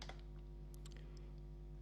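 Quiet computer keyboard typing, a few soft key taps in a short irregular burst over a steady low electrical hum, no talking.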